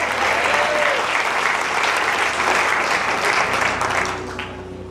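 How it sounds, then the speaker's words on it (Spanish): A church congregation bursts into sustained, loud applause that fills the room, fading slightly near the end as the clapping thins out. "Vamos, suéltale ese aplauso al Señor."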